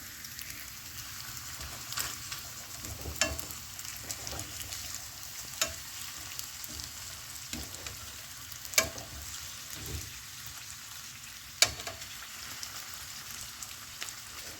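Mexican buñuelos fry in hot oil, a steady close sizzle and crackle with occasional sharper pops and spatters across the whole stretch, no voices over it.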